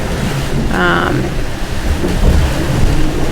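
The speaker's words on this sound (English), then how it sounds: "So our wind picked up quite a bit." Loud, constant roar of strong wind buffeting the microphone over churning waves at sea aboard a sailboat in blustery conditions, with a brief higher whine in the middle.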